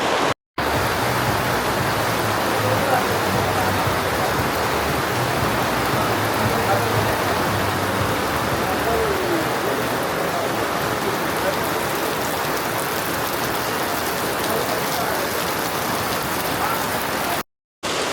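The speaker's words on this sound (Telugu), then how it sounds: "ఫ్రెంచ్లో అయితే ఇప్పుడు వర్షం పడుతుందన్నమాట. ఇప్పుడే జస్ట్ స్టార్ట్ అయింది." Fresh rain just beginning over the French village in Bukit Tinggi, Malaysia, makes a loud, even wash of drops on roofs and ground that goes on steadily, briefly cut by short gaps near the start and end.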